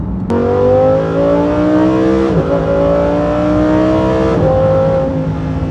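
A Lamborghini street car accelerates hard, its engine note climbing steadily through the gears with brief dips at each shift, loud and close with no talk.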